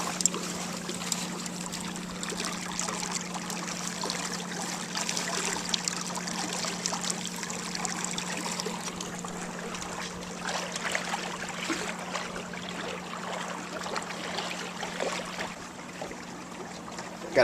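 Water sloshes and splashes steadily in the wake of a Hobie Holder 12 sailboat under sail on Lake Keowee, a continuous close wash with a steady low hum underneath and no talking.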